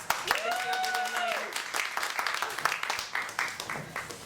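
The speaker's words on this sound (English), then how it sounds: "Can we have a round of applause?" A theatre audience applauds steadily, dense clapping filling the space, with a voice speaking over the start before the applause carries on alone.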